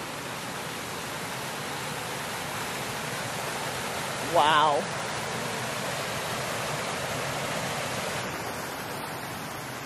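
A storm-swollen creek on a homestead rushes in a steady, loud broadband wash that does not let up, with a single brief exclamation from a man partway through.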